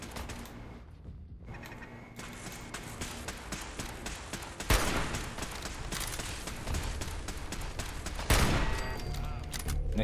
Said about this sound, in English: Nick's really bad at shooting turrets, that's for sure.